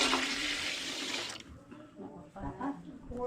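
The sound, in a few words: water being added and mixed in for cooking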